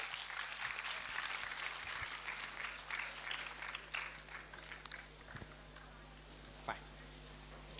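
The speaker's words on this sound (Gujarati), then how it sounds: "એના માટે જોરદાર તાળીઓ થઈ જાય" Applause from a lecture audience at the Femicon-2024 medical conference: a dense, steady patter of many hands clapping that fills the room, holds for several seconds and then thins out slightly toward the end.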